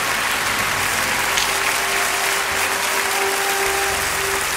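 Steady, dense applause from a church congregation fills the whole stretch, even and continuous with no pauses, heard from within the crowd.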